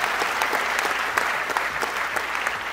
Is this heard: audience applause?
yes